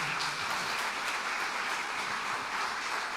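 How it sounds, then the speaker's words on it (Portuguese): A church congregation applauds loudly and steadily for a few seconds, dense clapping with no pauses and no talk. "Vamos aplaudir bem forte a Jesus, que Ele merece."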